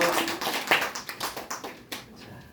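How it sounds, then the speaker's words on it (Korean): A brief round of hand clapping at a church service, a small congregation clapping in quick, uneven rhythm that tapers off after a couple of seconds. "힘내라고 한번 박수 한번"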